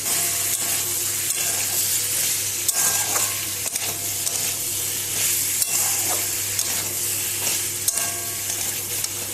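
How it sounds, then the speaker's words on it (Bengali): Vegetables with added boiled broccoli and beans sizzle and fry in a pan, with steady stirring scrapes and a continuous hiss throughout, close and fairly loud. "সবজিটা ভাজা ভাজা হয়ে এসছে এবার আমি এর মধ্যে ব্রোকলি আর বিনসটা দিয়ে দিলাম"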